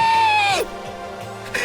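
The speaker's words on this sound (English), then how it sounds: "Full-on scream." A character in the Danganronpa video game lets out a loud, high-pitched scream that slides downward over about half a second, followed by quieter game sounds and a brief louder burst near the end.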